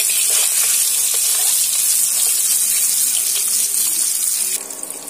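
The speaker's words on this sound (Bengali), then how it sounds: "তেলের মধ্যে এবার আমি ডিমগুলো দিয়ে সুন্দর করে আমি লাল লাল করে ভেজে নেব।" Loud, steady sizzling of eggs frying in hot oil until reddish-brown, a dense hiss that continues throughout and eases slightly at the end.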